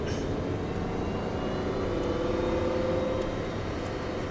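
An Aston Martin drives on a track during a driving course, its engine producing a steady, continuous drone with a faint rising tone and no voices.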